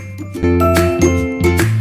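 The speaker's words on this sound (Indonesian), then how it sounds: "klik tombol subscribe dan nyalakan lonceng notifikasinya" Notification bell sound effect: a bright, close jingle of several chiming strikes in quick succession, each ringing tone layered over the last, loud and alone without talk.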